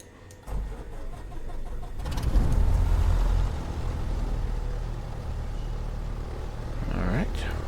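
A Beechcraft Baron BE58 piston engine cranks and catches in a flight simulator, rising from a low whir into a steady, loud rumbling run that fills the rest of the moment.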